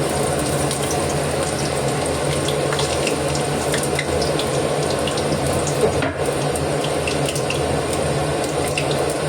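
Cumin seeds sizzling in hot oil in a wok for tempering, a loud, dense, continuous hiss and crackle up close that runs steadily throughout.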